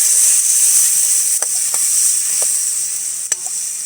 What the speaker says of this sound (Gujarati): મિક્સ કરી લઈશું ટમેટાને